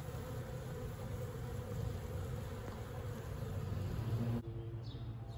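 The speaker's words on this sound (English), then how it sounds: "And I suspect a large amount of bees, larger than what you see, is about to show up." A honeybee swarm of tens of thousands buzzes around a hive, a dense, steady hum that stops abruptly near the end, leaving a few faint buzzes.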